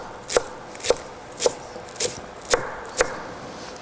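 A knife chops a bunch of cilantro on a board in a home kitchen, seven crisp, evenly spaced taps at roughly half-second intervals, close and clear with no talking.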